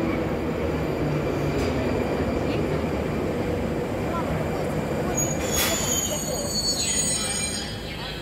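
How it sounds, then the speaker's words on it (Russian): A Moscow Metro train rumbles steadily along the tracks into the depot, with thin metallic wheel squeals rising over the continuous rolling noise. "У нас опять едет поезд из линии в депо."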